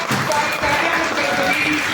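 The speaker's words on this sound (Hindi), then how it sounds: "हम तालियों के साथ" A dense crowd at a birth-anniversary ceremony at the Constitution Club in Delhi claps continuously, steady and loud, welcoming the chief guest, with murmuring voices mixed under the applause.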